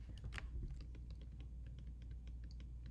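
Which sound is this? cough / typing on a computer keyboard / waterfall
typing on a computer keyboard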